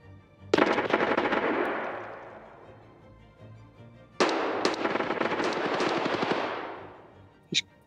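Automatic gunfire in the video game Escape From Tarkov, two long rapid bursts of loud, close shots that ring into a fading echo, followed by a brief single crack.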